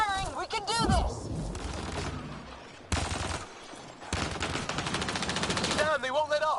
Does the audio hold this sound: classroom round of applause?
no